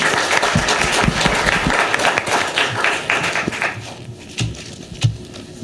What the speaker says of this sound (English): I want a round of applause for our speakers